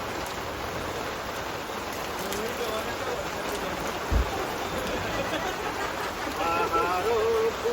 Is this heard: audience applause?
no